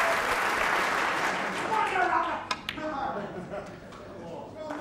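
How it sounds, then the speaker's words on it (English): A Crucible snooker crowd rises in a standing ovation after Ronnie O'Sullivan's win over Ali Carter in the 2008 World final, sustained loud applause that swells and then thins, with a commentator speaking over it. "And this crucible crowd give him a standing ovation"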